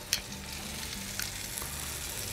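A pork roulade fries in a pan with a soft continuous sizzle and scattered sharp crackling pops, fairly quiet and close, with no talking.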